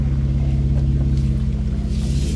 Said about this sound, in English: I'm driving with no muffler, just that downpipe.